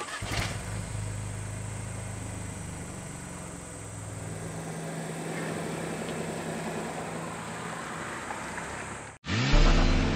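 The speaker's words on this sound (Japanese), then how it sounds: "試乗したのは1リッター直列3気筒ターボエンジンを積むアウディ" Audi Q2 1.0 TFSI Sport with a one-litre inline three-cylinder turbo engine, driving with a steady low engine drone under the cabin hum, then a brief cut to a louder, deeper engine note at the end.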